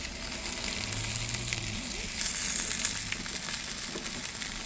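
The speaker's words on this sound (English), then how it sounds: "Sizzling away." Lorne sausage and black pudding sizzle steadily in a crowded frying pan while cooking in a campervan, a continuous close crackling hiss with no talking.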